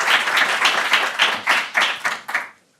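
A small group of people claps after a talk on neighbourhood-scale building renovation, giving a short run of roughly rhythmic, fairly close applause that thins out and stops within a few seconds.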